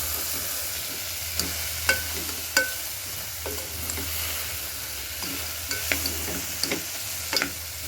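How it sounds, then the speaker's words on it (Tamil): Mushrooms sauté in oil with masala and no added water, sizzling steadily while a spoon stirs and scrapes the pan in occasional sharp taps, close and alone without talking. "ஸோ நம்ம தண்ணி எதுவும் ஆட் பண்ணாமல் இந்த எண்ணெயிலே நல்லா ஒரு 5 மினிட்ஸ் வதக்கிக்கலாம்."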